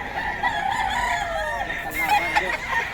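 A Boston White fighting rooster crows at a poultry market in Bocaue, one long, loud, wavering call close by, with background chatter around it.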